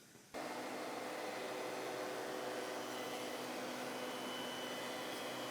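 Router fitted with a 1/8 inch radius roundover bit shaping the back edge of a wooden weather station, starting abruptly and holding a steady, loud whining hiss throughout.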